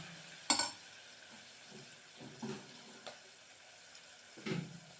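Potatoes stirring and sautéing in a kadai for vegetable sevai, a faint steady sizzle under occasional soft scrapes and knocks of a spoon against the pan.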